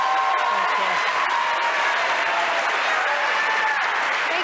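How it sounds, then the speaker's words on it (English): A debate audience applauds the Senate candidates, Maria Cantwell and Susan Hutchison, with dense, continuous clapping that fills the room evenly from start to finish, and no voices stand out. "Now you can feel free to give the candidates a round of applause."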